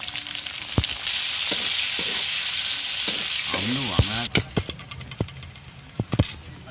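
Whole cumin seeds and chopped onion frying in hot oil with cardamom and cinnamon, a loud, steady close sizzle broken by several sharp stirring scrapes and clinks of a spoon against the pan.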